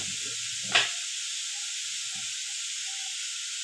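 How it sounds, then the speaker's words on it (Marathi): Red amaranth greens cook in a pan with a steady, even hiss of steam and sizzle. One sharp utensil knock comes near the start, and a few faint soft bumps follow. "ही भाजी टाकली, तिला व्यवस्थित अशी ढवळायची."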